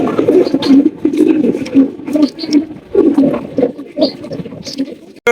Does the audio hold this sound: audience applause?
no